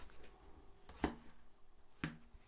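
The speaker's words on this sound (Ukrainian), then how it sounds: "Я обрізаю шкірочку" Two sharp knife chops through watermelon rind land about a second apart, close and crisp, with a faint background hum and no talking.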